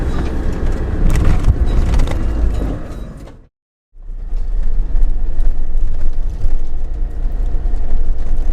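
Heavy truck engine heard from inside the cab as the driver shifts gears: a loud, continuous rumbling drone that cuts out abruptly for about half a second midway, then resumes just as strong.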